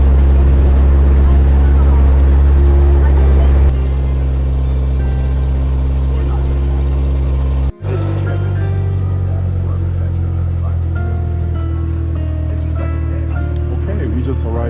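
A crowded passenger boat travels a river in Laos toward Nong Khiaw, its engine a loud, steady low drone with strong harmonic hum, briefly cutting out before resuming, with voices and background chatter over it.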